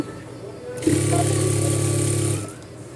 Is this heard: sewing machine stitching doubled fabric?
yes